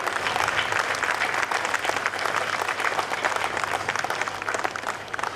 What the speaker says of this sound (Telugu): అటువంటి అమృతలత మేడంకి ఒకసారి బిగ్గరగా చప్పట్లు, మనందరం చప్పట్లతో అభినందనలు తెలియజేయాలి.